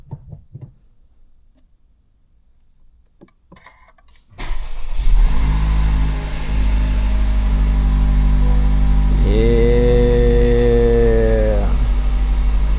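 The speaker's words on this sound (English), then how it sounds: "I'll give you a little cold start actually." Honda Civic Type R FL5 cold start: after some quiet shuffling, the engine cranks and fires abruptly into a loud, steady high idle, with a brief rising whine partway through, close by.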